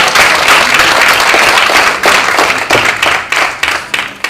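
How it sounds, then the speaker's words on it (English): An audience at a Nigerian community event applauds, with steady, loud clapping that fills the room and then thins into uneven bursts. "Can we have a round of applause?"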